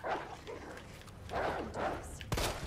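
Zombie dogs in the Resident Evil 2 Remake game give several short barks and yips, with a thud near the end, loud over a low game background and faint voice-like sounds.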